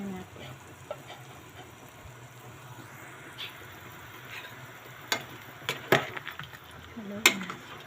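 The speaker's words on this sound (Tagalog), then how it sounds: "ilalagyan natin ricado. Meron yung luya, kamatis, bawang." Ginger, tomato and garlic sautéing in a pan give a soft, low sizzle, broken by a handful of sharp clicks and taps from a utensil toward the end.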